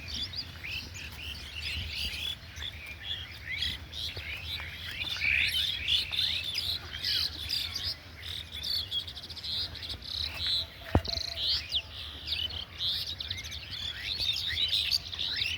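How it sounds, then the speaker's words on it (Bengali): Many birds chirp and tweet continuously in the background, a busy outdoor chorus with faint insect buzzing underneath. "পাখিদের কলকাকলি শোনা যাচ্ছে"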